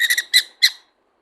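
A baby sun conure chick gives a quick run of shrill, raspy begging calls during hand feeding, close and clear, about four bursts in under a second before falling silent.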